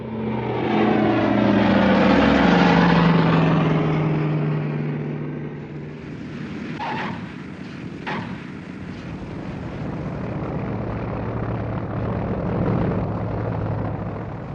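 Berlin airlift cargo planes come in overhead, a loud propeller-engine drone swelling to a peak early on then fading into a steady lower rumble, with a couple of sharp knocks partway through.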